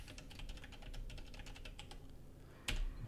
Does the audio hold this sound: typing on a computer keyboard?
yes